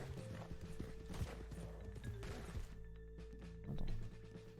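Horse hooves clip-clop in a video game as a panicking horse stalls, quiet rhythmic thuds over a low steady background hum, with no voices.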